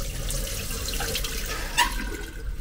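Water runs steadily from a leaking tap being repaired, a soft continuous flow with a brief louder splash or squeak near the end, close by.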